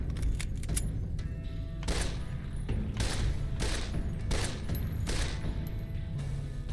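Gunfire in Fallout: New Vegas rings out as a run of sharp shots and broad echoing blasts at irregular intervals, some quick in succession, over a constant low background hum.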